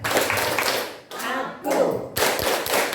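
A group of elderly participants at a community health session does a rhythmic patterned clap in unison, sharp bursts of claps in short phrases with voices chanting along between them.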